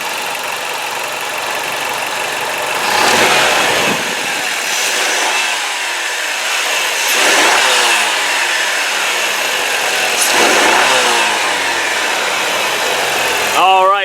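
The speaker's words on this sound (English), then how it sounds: "I'm going to be quiet now and rev it up and just let you listen" The 2.0-liter four-cylinder engine of a 2004 Chrysler PT Cruiser Limited idles close and loud, with several rising and falling revs in a row and a brief chirp at the end.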